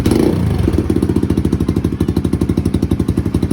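A motorcycle fitted with a new open-pipe muffler revs close up, its loud, rapid exhaust pulses throbbing steadily after a brief opening surge, with no talking.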